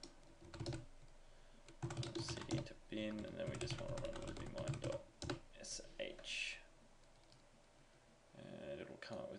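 Computer keyboard typing of terminal commands while installing software, a run of quick clicks and key taps spread through the clip under a voice.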